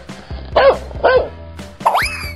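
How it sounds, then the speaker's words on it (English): A cartoon dog gives three short yipping barks over light, playful children's music, the last one sliding up like a springy boing. "Dog."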